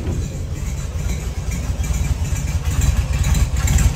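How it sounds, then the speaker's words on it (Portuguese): A 1970 VW Fusca (Beetle) in beige with its air-cooled engine running at idle: a steady, close low rumble with a fast uneven chug, growing slightly louder toward the end, with no talking over it. "Vamos lá ver o motor dele funcionando."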